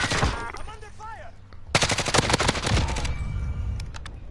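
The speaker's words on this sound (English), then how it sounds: "I'm under fire." Rapid automatic gunfire rattles through a Call of Duty-style battle royale match, dense bursts of close shots after a brief lull, with radio-style voice callouts heard early on.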